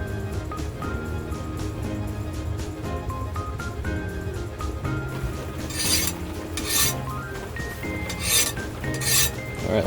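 A metal file rasps and skates over hardened knife steel while a san mai blade is being made in a workshop, a steady close scraping with several bright, harsh strokes toward the end.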